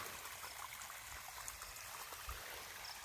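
Water flows from a pipe, trickling steadily nearby in a continuous rushing burble, with no talking.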